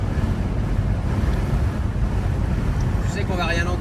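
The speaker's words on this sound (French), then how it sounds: "Tu sais qu'on va rien entendre avec le vent." Strong wind buffets the microphone with a constant low roar on a road trip in the Yucatán, steady and loud throughout, with a faint voice near the end.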